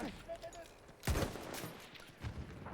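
Gunfire in the video game Battlefield 1: a sudden loud burst of shots about a second in, then a lighter burst near the end, over a noisy battlefield backdrop.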